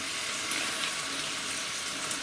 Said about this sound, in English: if you fry it, as I am, then the water actually